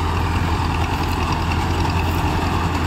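Farmtrac 6055 tractor carrying a mounted harvester, idling nearby in a continuous deep throb that stays loud and even throughout.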